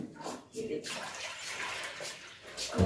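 Water poured from a cup into a Multani sohan halwa mixture, a soft, brief splashing pour heard close by in a quiet kitchen, about two short bursts in under three seconds.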